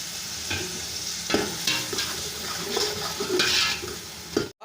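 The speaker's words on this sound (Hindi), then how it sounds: "अब हम इसमें टमाटर डालेंगे और टमाटरों को अच्छे से भून लेंगे।" Tomatoes fry and get stirred in a pan for beef pulao, a steady sizzle broken by several scraping stirs of the spoon at irregular intervals, close and moderately loud with no talking.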